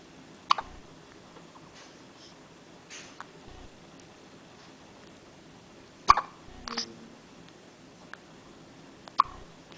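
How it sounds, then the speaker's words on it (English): A young boy hiccups indoors, a few short sharp spasms spread across the clip, quiet and close, with soft household noise between them. "do you have the hiccups?"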